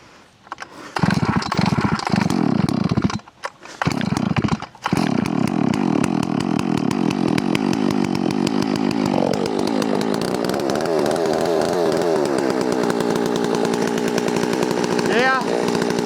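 A lower-spec gas chainsaw running on 25-to-1 fuel-oil mix revs loudly while cutting wood, after a brief sputtering start with short dropouts; the engine then holds a sustained, shifting snarl as the bar bites and the pitch bogs and rises.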